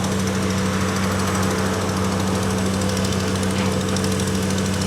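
Drilling rig boring holes for bridge columns at a construction site in Hubah, Borneo, with a steady, loud engine drone and humming vibration running throughout, no talk.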